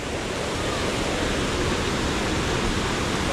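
A river flowing at a swimming spot, a steady broadband rush of water that stays loud and unbroken throughout, with no voices heard over it.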